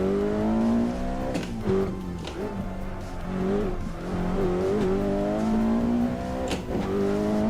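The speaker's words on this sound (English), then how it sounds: "The F40 in the Assetto Corsa Evo is so much fun to drive." A Ferrari F40 in Assetto Corsa Evo roars with a loud, continuous engine note, revving up and down through repeated gear changes with occasional tire squeal, close and dominant throughout.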